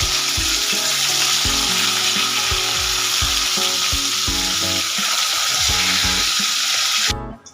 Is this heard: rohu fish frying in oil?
yes